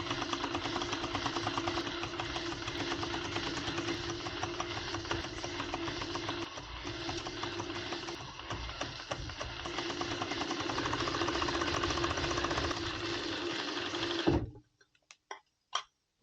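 Sewing machine stitching a seam on a waterproof softshell jacket, a fast, even mechanical whirring run held for about fourteen seconds before stopping, followed by a few faint clicks.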